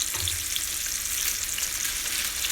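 Stuffed pork loin, filled with French onion stuffing, sears in hot oil in a tight-fitting pan, giving a steady, close, loud sizzle and crackle with no pauses.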